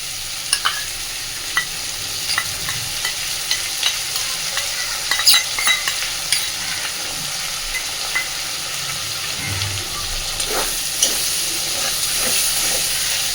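Prawns frying in a pan with a paste of ground ginger, cumin and black pepper, a steady close sizzle and hiss broken by scattered stirring scrapes and clinks, with no talk.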